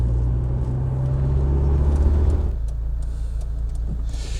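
A restored Rover 800 Vitesse Fastback drives toward the Pride of Longbridge show, its engine and road noise a steady close hum from inside the cabin, easing slightly halfway through.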